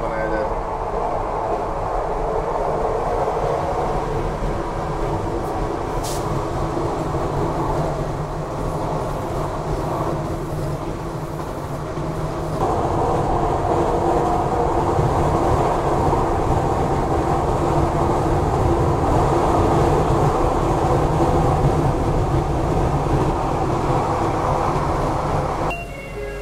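Inside a moving ETS Platinum express train in Malaysia, a steady mid-level rumble of wheels and carriage hum runs throughout, growing a little louder partway through, with a brief high click near the start.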